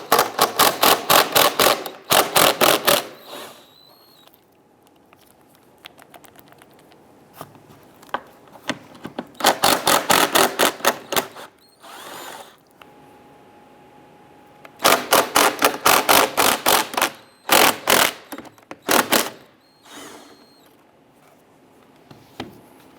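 Ratchet clicking in quick bursts as 10mm bolts are loosened and backed out of an A/C condenser fan on a 2002-2008 Dodge Ram, close and crisp, with short pauses and faint handling noise between runs.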